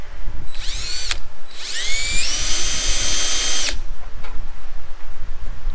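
A power drill bores a pilot hole into a welder's casing, whining loudly in two close bursts, a short one and then a longer sustained run, over faint background noise.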